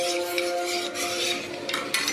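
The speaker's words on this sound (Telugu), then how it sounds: "అది బబుల్స్ రాకుండా బాగా మిక్స్ చేసుకోవాలి" A spoon swirls and scrapes steadily inside a vessel as custard powder is stirred into milk. The rubbing is close and continuous, with a few sharper scrapes and a faint steady hum in the background.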